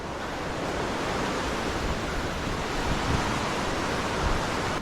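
Dense, steady roar of rushing water from a waterfall near Anoor village, constant and broadband with no voices or breaks.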